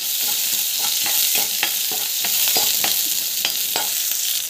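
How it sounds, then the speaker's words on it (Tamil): Shallots, garlic and chana dal frying in a pan for beetroot poriyal: a close, continuous sizzle broken by regular scraping stirs, with no talking. "சின்ன வெங்காயம், பூண்டு, கடலைப்பருப்பு நல்லா வந்து வதக்கிட்டுருங்க"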